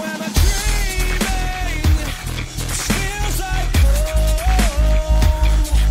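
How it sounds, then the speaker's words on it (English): Dubstep remix of a rock song, with heavy sustained bass, punchy rhythmic drops and a wobbling synth lead, played loud and continuous throughout with no talking. "There's also a dubstep remix that sounds like this."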